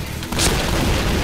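A heavy boom erupts partway through, a deep bomb explosion in a first-person shooter video game, with a rumbling tail that fills the rest of the short clip.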